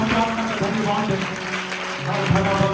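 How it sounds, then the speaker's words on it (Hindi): A church congregation claps loudly in thanks during a sermon, a continuous crowd of hands clapping heard with a voice speaking over it. "जोर से तालियों को बजाकर धन्यवाद है।"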